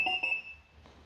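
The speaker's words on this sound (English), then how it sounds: "Now the scooter is beeping." A Ninebot Max electric scooter gives a couple of short, high-pitched electronic beeps in quick succession, then falls quiet, close by in a quiet room.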